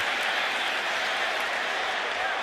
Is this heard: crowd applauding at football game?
yes